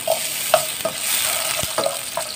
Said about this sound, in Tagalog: Ayan, magpiprito na tayo